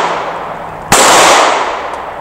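A single loud, sharp pistol shot from a Smith & Wesson M&P fitted with a red dot sight, fired at close range, cracking abruptly and then decaying over a steady background hiss.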